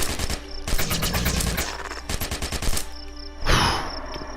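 Video game gunfire in bursts of rapid automatic shots, loud and close, with short pauses between volleys and a final burst near the end.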